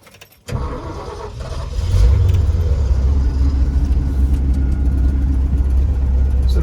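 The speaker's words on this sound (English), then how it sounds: "So the motor's running good." Ford F600 truck engine fitted with a Chinese Holley carburetor starts and settles into a steady, loud, rumbling idle, heard close up from inside the cab.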